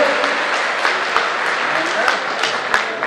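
Crowd clapping steadily at a Yogi Adityanath rally during a religious gathering at a Shiva Gorakhnath temple, a dense, continuous wash of hands with scattered sharper claps, fairly loud throughout.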